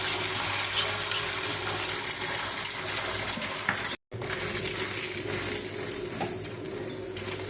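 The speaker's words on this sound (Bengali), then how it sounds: "এটার মধ্যে এবার একটু তেল দিয়ে দিলাম, দিয়ে ডিমটা আমি ঢেলে দেবো।" Beaten egg goes into a lightly oiled pan for an egg roll, with a continuous hiss of sizzling and frying that is interrupted once by a very brief silence before it resumes.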